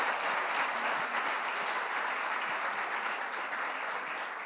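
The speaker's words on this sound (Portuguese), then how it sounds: "Você pode aplaudir Jesus?" Congregation at an evening church celebration service applauds, a continuous wash of many hands clapping at moderate volume, heard from a slight distance and sustained evenly without voices.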